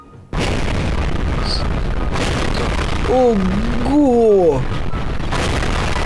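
Explosions in Garry's Mod burst out as a steady, loud roaring rumble that runs through the whole stretch, with one person speaking over it in short excited exclamations.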